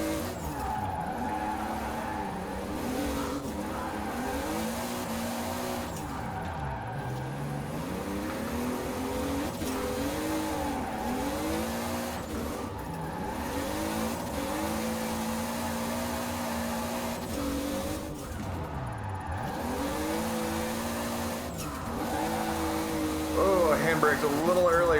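A Toyota Supra in Forza Horizon 4 drifting with handbrake use, the engine revving and bogging in waves with tire squeal through slides, a continuous loud game car sound.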